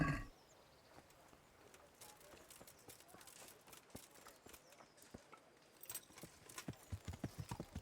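Horse hooves clip-clop steadily in a video game, with sparse beats at first that quicken into a louder, faster run near the end. No talking.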